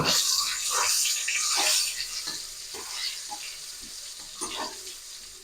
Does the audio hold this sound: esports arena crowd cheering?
no